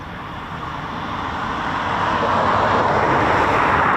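Eurofighter Typhoon FGR4 jets in a flight of three roar past, a broad steady rush of jet noise that swells gradually louder over a few seconds, with no voices.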